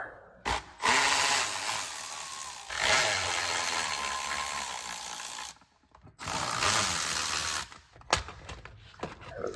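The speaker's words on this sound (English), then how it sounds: "so I'm going to loosen the top cover" The top cover of a Husqvarna 372XP chainsaw is loosened with a tool, giving loud close bursts of scraping, ratcheting mechanical noise broken by short pauses.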